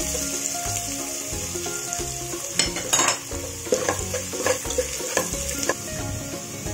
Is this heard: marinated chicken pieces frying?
yes